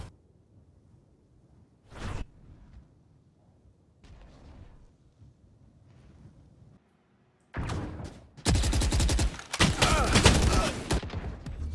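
Gunfire in a Valorant tournament match: scattered single shots and whooshes early, then dense rapid bursts of automatic fire crackle loudly through the last few seconds.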